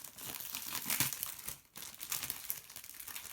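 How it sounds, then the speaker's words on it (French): Paper crinkles and rustles continuously up close, with crisp crackling bursts and a brief pause midway, loud and alone without speech. "je vais faire un peu de bruit avec le papier"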